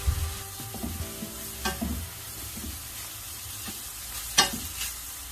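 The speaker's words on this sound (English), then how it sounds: "we're just going to stir fry" Nigerian meat pie filling being stir fried with seasoning and sauce, quiet sizzling under intermittent scraping and knocking of a spoon against the pan, close up with no voices.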